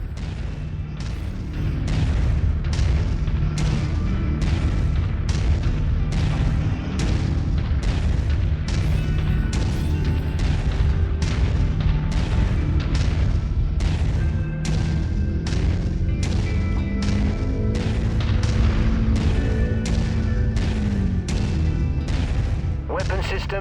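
Heavy mech weapons fire in MechWarrior 5: Mercenaries weapon testing, a rapid, loud string of booming shots and explosions that runs almost without pause over a deep rumbling bed.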